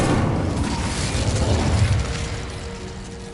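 A fire spell is cast in Hogwarts Legacy on PS5: a loud, deep whooshing burst with rumbling low end that swells for about two seconds, then settles into a lingering crackle and hum, with no talking.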